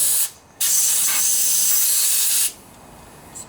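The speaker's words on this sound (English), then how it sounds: "I'm going to spray some air in there now to make sure everything dries out" Compressed air blasting into the carburetor of a Snapper riding lawnmower: a brief hiss, a pause, then a loud sustained spray of about two seconds, close to the microphone.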